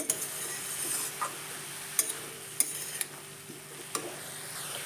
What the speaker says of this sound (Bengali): একসঙ্গে ভালো করে একটু মিশিয়ে নেব